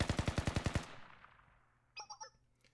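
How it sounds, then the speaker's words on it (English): Automatic gunfire in the video game Blue Archive, set amid an illegal weapons trade: a rapid burst of about ten loud shots with a ringing tail, then brief chirpy game sounds. "Gunfire."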